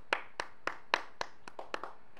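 Sparse hand clapping for a player being announced in a Shakes and Fidget ranking: about nine separate, fairly quiet claps at an uneven, unhurried pace, with no voices.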